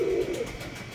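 A dub pigeon, a fancy pigeon breed, gives one close, low, resonant coo that swells and then trails off within a second, heard alone.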